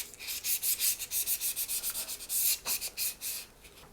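Sandpaper rubs back and forth in quick, steady strokes along the outer edge of a cheap 100-yen shop picture frame, close and loud, with no talking.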